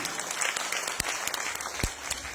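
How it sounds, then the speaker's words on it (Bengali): Audience at an event clapping together, a dense, continuous round of applause from many hands, fairly close and even throughout the short stretch. "এটা হাত তালি হবে"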